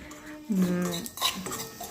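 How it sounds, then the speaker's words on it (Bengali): A metal spoon scrapes and clinks against a pan as dry semolina is roasted and stirred, with a few sharper knocks and light rustling. "সুজিটা দিয়েছি কড়ায়, সুজিটা ভালো করে ভেজে নিয়ে"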